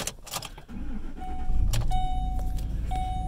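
A 2011 Ford Expedition four-wheel-drive is started cold: keys jangle, the starter cranks briefly and the engine catches into a low steady idle, close by, with dash warning chimes sounding over it.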